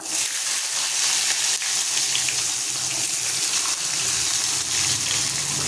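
Shallots dropped into hot oil with urad dal and dried chillies sizzle in a pan, making a loud, continuous, bright frying hiss that stays steady without any talk.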